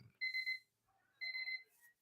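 Two electronic buzzer blasts at an auction, each about a second long with a steady beeping tone, separated by a short gap and heard alone without talk.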